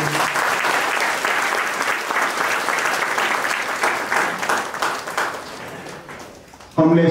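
An audience at an indoor gathering in Gujarat applauds to welcome an IPS officer guest, with dense, fairly loud clapping that swells and fades before a voice cuts in at the end.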